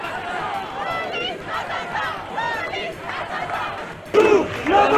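An anti-police protest crowd chants and shouts in rhythmic, overlapping voices, a dense roar of many people at moderate distance that swells louder near the end.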